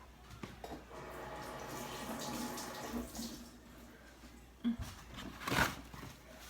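Water running from a kitchen tap while hands are washed, a steady stream with splashes and a few sharper drips near the end.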